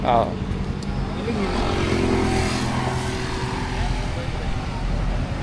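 Custom motorized bicycle with a two-stroke engine running steadily nearby, a buzzing drone with a rising whine, heard on Devils Corner along Marilaque in the Philippines, with people talking over it.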